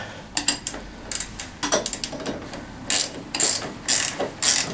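Ratchet wrench tightening a 15 mm bolt during assembly of a Tao Tao CY50A scooter, a series of close, crisp ratcheting clicks in short bursts with brief pauses between strokes.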